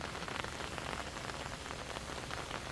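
Steady rain falls on a surface along a pond-side walking trail, a dense continuous patter of drops with no voices, loud and even throughout.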